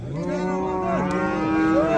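A cow at a livestock bazaar gives a long, loud, close moo that rises and holds, its drawn-out call filling the whole moment over faint market background.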